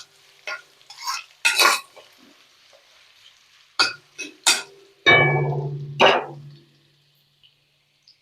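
A spoon stirs pepper rice in a pan, giving a few short scraping strokes spaced apart over a quiet background, close by.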